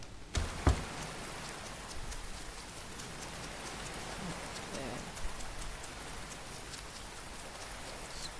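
Steady rain falling outdoors near dried sunflowers and red clover, a continuous soft patter with a few louder drops close by, mostly on its own.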